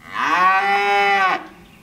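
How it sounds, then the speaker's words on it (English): Cattle, a heifer and a steer kept indoors, give one long, loud, close moo with a sustained harmonic tone that ends abruptly, followed by quiet. "The heifer and the steer are still inside, and they've not stopped mooing."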